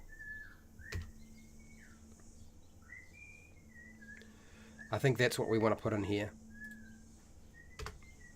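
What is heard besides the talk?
someone whistling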